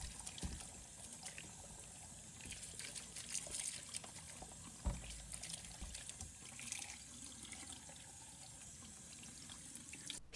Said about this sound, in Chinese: 首先将西瓜置于水龙头下，用流动水彻底冲洗表面